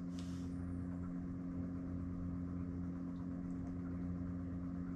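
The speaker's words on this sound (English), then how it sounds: "That's the sound of the Webasto when it's going quietly." A Webasto heater running on its quiet setting aboard a boat, a faint, steady low hum with a constant tonal drone and soft airy noise, unchanging throughout.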